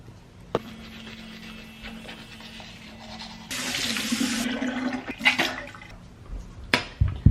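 A bathroom tap runs while someone brushes their teeth, giving a steady close hiss of flowing water with a louder splashing stretch midway and a few sharp knocks and clatters near the end.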